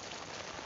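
Steady rain falls in Karachi, a dense, even hiss of drops hitting surfaces, heard briefly and alone.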